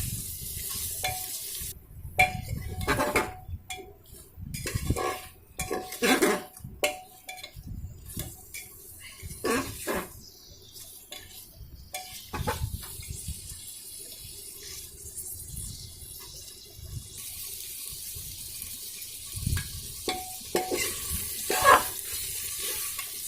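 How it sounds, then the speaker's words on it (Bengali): Cut mutton pieces are sautéed in a pot for pressure-cooker mutton biryani, a steady sizzle with irregular bursts of stirring, scraping and clinks of utensil against the pot, close and alone. "এবার আমি ওর মধ্যে টুকরো করে কেটে রাখা মাটন দিয়ে দিচ্ছি। দিয়ে একটু কষে নিতে হবে কিছুক্ষণ।"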